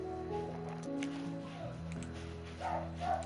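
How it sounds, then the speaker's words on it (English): Dog yipping and whimpering excitedly in a House Flipper game, a steady run of high, agitated cries layered over game music and a voice talking. "Freaking dog's going crazy downstairs."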